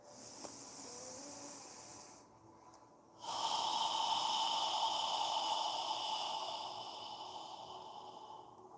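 Slow, breathy exhalations pushed through a constricted throat with a soft hissing, airy rasp, like fogging a mirror. Two long breaths are heard close up, the second fuller and louder, in a quiet room.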